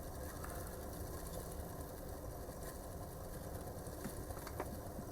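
A small electric motor in a Bachmann GP50 Santa Fe model locomotive whirs steadily, a faint continuous mechanical hum with light gear ticking throughout.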